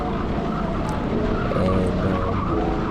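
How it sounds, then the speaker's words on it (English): Rental kart tires skid and squeal as the kart drifts into the pits at a motorsports park, a loud, continuous scrubbing screech over the engine drone with no talk. "I'm about to do some drifting into the pits."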